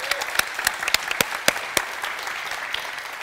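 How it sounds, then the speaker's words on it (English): Conference audience applause after a talk, a short burst of moderately loud clapping with individual claps standing out, fading slightly toward the end. "I think that a round of applause right now is a good idea."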